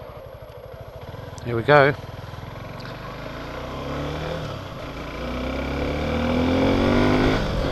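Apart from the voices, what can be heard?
adventure motorcycle engine pulling away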